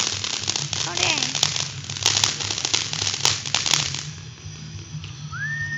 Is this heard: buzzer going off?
no